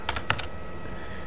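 A computer keyboard clatters with a short burst of quick keystrokes, close and crisp, then falls quiet with faint room hum.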